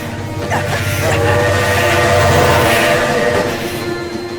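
A train passes close by, its horn sounding over a steady rolling rumble and wheel clatter, loud and continuous throughout with no talk.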